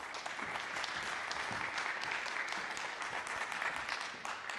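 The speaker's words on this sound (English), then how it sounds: "A warm round of applause." A summit audience at the Nordic Innovation Summit 2022 applauding a speaker, a thick, even wash of many hands clapping that holds steady for a few seconds before tapering.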